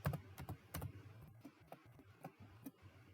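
Python code being typed on a computer keyboard: bursts of quick, light key clicks with short pauses between them, close but faint and quiet, with no speech.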